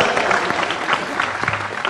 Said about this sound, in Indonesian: tepuk tangan sekali lagi untuk Faisal